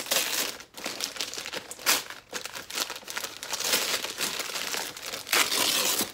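Paper and plastic wrapping crinkled and torn while unboxing a Funko Pop figure, close and continuous with sharp rustling bursts and no talking.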